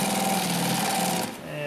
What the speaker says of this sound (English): So we're going to jump over some seams now.